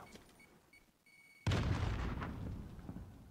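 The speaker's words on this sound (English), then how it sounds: "Throwing a grenade." Grenade detonating in Call of Duty, a single loud, sudden boom whose rumble lingers and fades over the next two seconds after a quieter lead-in.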